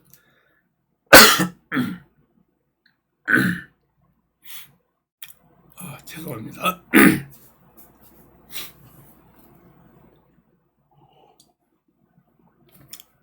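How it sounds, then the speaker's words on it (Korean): Several abrupt, loud sneezes burst close to the microphone indoors during a lecture broadcast with the air conditioning on. They are separated by quiet gaps, with a few soft sniffs and a brief spoken word between them. "에어컨을 틀어놓고 방송을 하니까 갑자기 재채기가 나왔습니다."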